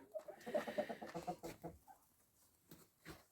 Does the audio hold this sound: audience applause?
no